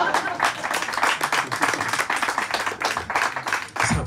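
Audience at a French stand-up comedy show clapping in a dense, lively burst, loud and close, with scattered voices mixed in and a brief dip near the end.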